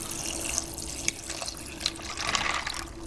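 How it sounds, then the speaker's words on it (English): Water is poured from a jar into a bowl of macaroni for mac and cheese, a steady close splashing trickle with a few small clinks. "And then I've got my jar of water right here and I'm just gonna pour that all inside."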